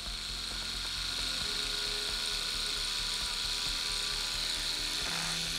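A Vlad Blad Seawolf hybrid rotary tattoo machine running on a simple power supply, giving a steady, even mechanical whir with a fine buzzing texture that holds constant throughout.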